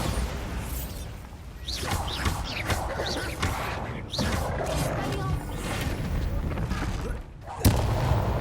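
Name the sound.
Confringo and Bombarda spell blasts, from video game Hogwarts Legacy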